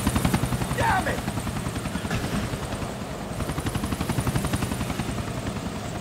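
Helicopter in Grand Theft Auto IV, its rotor thumping in a fast steady pulse close by and loud throughout, with a brief shout-like sound early on.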